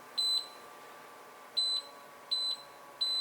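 A Whirlpool induction stove top timer sounds four short, clear electronic beeps in a steady repeating pattern, with a faint background hum between them.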